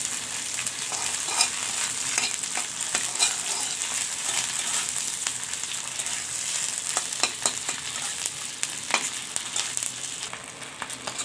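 Dried fish (shutki) frying in a little oil and being stirred, a steady close sizzle with frequent scraping stir strokes throughout, no talking.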